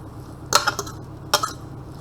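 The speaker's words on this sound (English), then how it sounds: "I'm just going to give them a stir around" Hot roasted vegetables are stirred around a metal oven tray, giving two short bursts of scraping and clinking, one early and one later, close by with quiet pauses between them.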